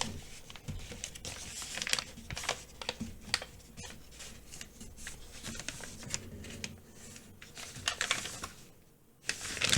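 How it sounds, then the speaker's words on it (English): A paper flap is folded in half during origami, with close, crisp crinkles and sharp creasing taps coming in irregular bursts while the sheet is handled. "I'm going to fold the flap in half."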